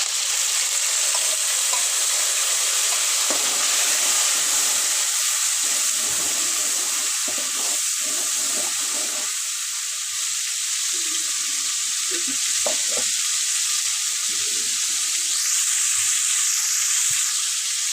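Ginger garlic paste sizzles and fries loudly in hot oil for a chicken curry, a steady close crackle with intermittent stirring scrapes throughout and no talking.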